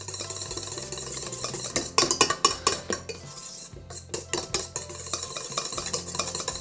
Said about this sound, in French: Là, on va mélanger un petit peu.